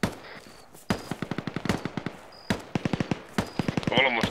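Machine gun fire in the military video game Arma, in rapid bursts of close, loud shots separated by short pauses.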